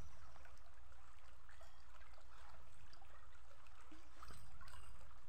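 Water trickles steadily out of a zippered bag sold as waterproof, a soft continuous dribble heard close up with no talk.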